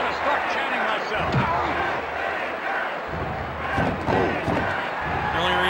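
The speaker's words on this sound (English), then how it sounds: "Listen to this crowd!" Wrestling crowd noise in a WWE video game: a dense, loud, continuous arena roar with swelling cheers and chant-like surges, plus scattered thuds and a voice over it.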